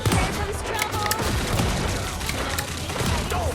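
Dense, continuous gunfire and booming impacts from a Marvel Rivals match, a loud chaotic mix of shots and effects with a voice chattering underneath.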